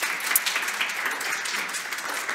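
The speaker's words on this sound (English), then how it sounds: "another round of applause to Mutlu for joining us today" Audience applause at an iHub4Schools education conference, a short burst of steady, moderately loud clapping from a room of attendees after a session, with no voices over it.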